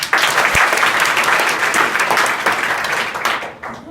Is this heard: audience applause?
yes